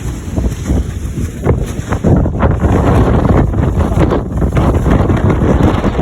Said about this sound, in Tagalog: The wind are so strong.